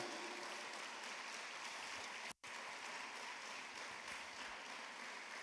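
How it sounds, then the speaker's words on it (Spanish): A church congregation clapping during a sermon, a continuous, fairly faint hiss of many hands, interrupted by a momentary dropout midway, then resuming evenly. "Alguien déle una ofrenda de palmas al Rey que vive"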